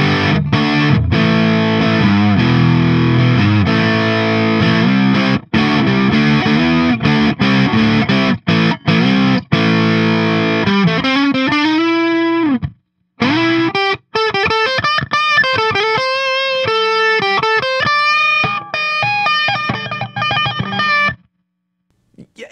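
An electric guitar played through a Hardluck Kings Bombshell pedal rings out with distorted tapping runs, fast legato notes climbing and falling, with brief pauses and sustained tones, loud and close.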